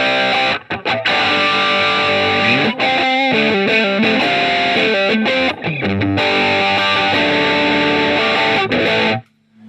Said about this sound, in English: So this was what I called the A1 distortion.